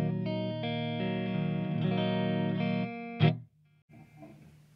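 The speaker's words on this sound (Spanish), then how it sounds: "Bien, este es mi sonido limpio." A clean electric guitar tone from an amp, miked with a Shure SM57, rings out as sustained chords with a few changes, then stops abruptly with a short thump, followed by faint quiet noise.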